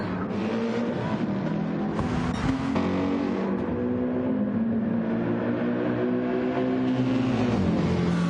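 Race car engines in a racing video game drone loudly and continuously, their steady high whine rising and falling as the cars accelerate and shift, with no talk over them.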